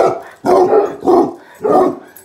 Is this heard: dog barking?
yes